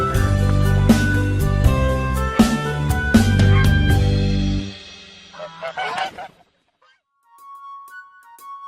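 A duck quacking in a French children's song, several loud nasal honking calls over bright sung music, then the music cuts off and softer calls follow.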